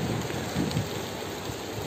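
Steady heavy rain falls through a tropical forest, a dense continuous hiss of drops on foliage and ground, loud and close, with no one speaking.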